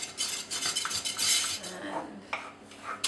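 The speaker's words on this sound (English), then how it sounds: "so we might just get the whisk onto it" A whisk beats paleo brownie batter in a bowl, giving rapid, close metallic clinks and scrapes in an uneven rhythm, with a few louder taps against the side.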